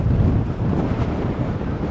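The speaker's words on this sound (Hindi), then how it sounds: "बहुत तेज़ हवा चल रही है इस वक्त" Strong wind blowing beside a giant minaret in Casablanca, a steady close rumble of gusts buffeting the microphone for a couple of seconds, with no voices.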